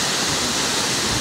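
Budoy Falls roars as a dense, continuous wash of falling water, loud and close with no break and no voices.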